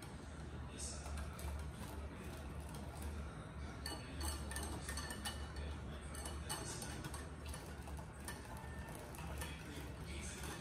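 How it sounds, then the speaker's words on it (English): A whisk stirs egg custard with milk in a pot, giving quiet, steady metallic clinks and ticks against the pot's sides, faint and continuous throughout. "So a little patience goes a long way, and you just keep whisking it"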